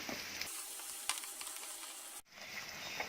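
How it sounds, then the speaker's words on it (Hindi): Vegetable sabzi paste with green chillies sizzling and frying in a pan, a steady close hiss broken by a few stirring scrapes and one brief pause. "स्टर करेंगे अच्छे से और इसको भी 2-3 मिनट तक पकाएंगे।"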